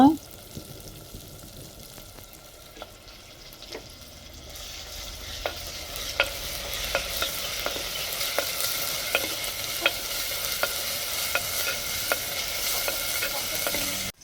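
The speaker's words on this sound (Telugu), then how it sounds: "రుబ్బు పెట్టుకున్న మసాలా ముద్దను కూడా వేసుకొని బాగా కలిపి వేగనివ్వాలండి, పచ్చివాసన పోయేదాకా." Ground masala paste is stirred into onions and tomatoes frying in a pan for an egg and drumstick curry, with a continuous sizzle under regular, rhythmic spatula scrapes and taps that grow busier after the first few seconds.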